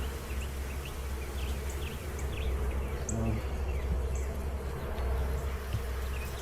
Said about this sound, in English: A lot of honey, a lot of bees.